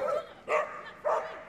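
A dog barks three times in quick succession, close and loud, eager at the start line of a Crufts 2024 intermediate/large agility jumping championship run.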